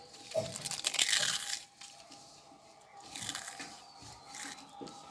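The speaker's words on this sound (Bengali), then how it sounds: "এবার ভেঙে দেখাবো কোনটা বেশি কুরকুরে হয়েছে" Crisp fried potato chips crackle and crumple as they are broken apart nearby, a brief brittle burst early on followed by quieter intermittent crunching, with no one talking.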